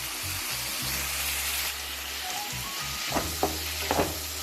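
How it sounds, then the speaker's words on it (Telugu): Tomatoes with turmeric fry in a pan, a steady close sizzle under a low hum, with a few sharp spoon clicks and stirring scrapes toward the end, no voices. "టమాటాలు కూడా వేసేసుకోవాలి"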